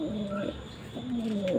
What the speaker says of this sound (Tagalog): Naibasket na natin yung ating ikakargang ibon.